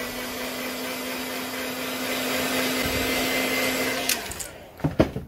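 A heat gun blows a steady, loud whooshing hum with a faint tonal whine while heat-setting fresh paint on a custom fishing lure, then cuts off with a few clunks and handling noises at the end.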